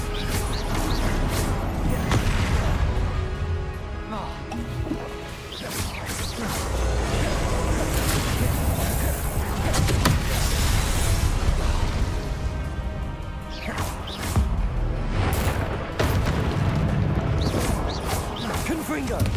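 Repeated spell blasts in Hogwarts Legacy, a fire-blast Confringo, land as sharp crashes and bursts throughout, with a voice speaking and shouting spell names over the continuous game noise.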